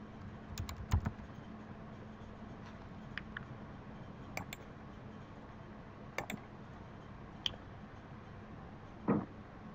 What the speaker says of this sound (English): type in Steve Jobs here